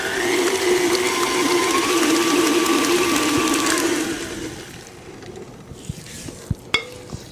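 Electric mixer whirring through pumpkin snickerdoodle batter, a steady close drone for about four seconds, then stopping and leaving faint clinks and taps.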